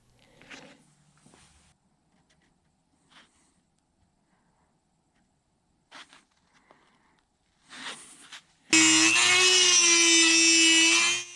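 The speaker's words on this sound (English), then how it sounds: "I used a Dremel with a carbide burr on the end of it to enlarge the hole and give it a squarish appearance." After a few quiet handling clicks, a Dremel with a carbide burr enlarging a hole in a metal tool box drawer front whines loudly and steadily for a couple of seconds, close up.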